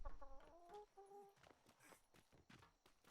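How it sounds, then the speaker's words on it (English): A chicken clucks in a few short, pitched bursts near the start, quiet and mixed with hoof-like clopping and other soft background noise. "Got a chicken. What the hell is a chicken doing?"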